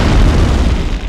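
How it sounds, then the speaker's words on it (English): A grenade blast in Medal of Honor on PS1 lands as a single loud, heavy boom with a rumbling tail that fades out over about a second. "throw a little nade in there."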